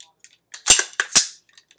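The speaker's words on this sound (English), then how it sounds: "pull the bolt back to the rear so that we can verify that this weapon is indeed unloaded" Metallic clacks of a rifle bolt being drawn back to the rear to check the chamber, a few sharp close clicks and scrapes in quick succession with near silence around them.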